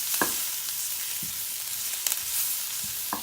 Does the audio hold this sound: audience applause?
no